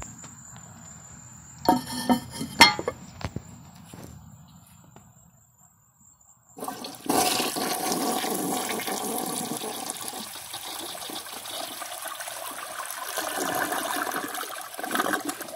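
A 1989 Crane Radcliffe toilet in poor condition, with the handle on the right, flushes with a sudden loud rush of water that settles into a long, steady refill hiss, after earlier clicks and handle rattles.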